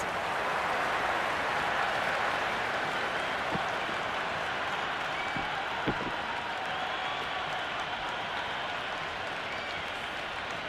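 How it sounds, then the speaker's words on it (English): Steady crowd applause and cheering from a cricket match in the Cricket 26 video game, a continuous broad wash of clapping that holds at an even, fairly loud level throughout with no talk over it. "the crowd is in full swing."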